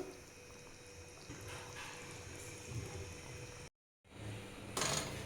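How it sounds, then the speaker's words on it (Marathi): Quiet pouring of water into a simmering pan of brinjal curry in green masala, a soft liquid rush with faint bubbling and a short burst near the end. "थोडंसं टाकूयात पाणी"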